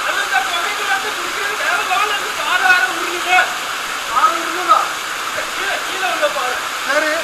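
A hidden waterfall pours continuously nearby, a broad steady rush of falling water with a voice speaking over it now and then.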